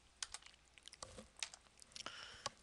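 Quick, uneven keystrokes tap on a computer keyboard in a quiet room, soft and close, in a short burst of typing.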